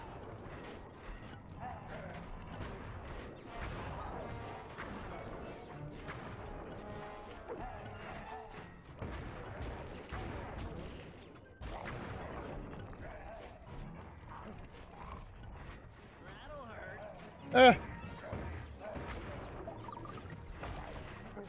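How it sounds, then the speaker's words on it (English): Bombs drop and explode in the video game Sly 2, with repeated thuds and crashes over busy game sound and one sharp, loud blast near the end. "We're dropping bombs like crazy, boys."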